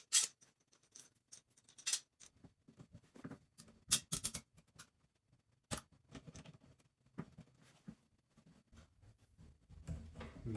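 A clamp is tightened onto a wooden chair's top rail over a rag and a wood block, producing quiet, close, irregular clicks, ticks and small ratcheting taps with brief pauses between them.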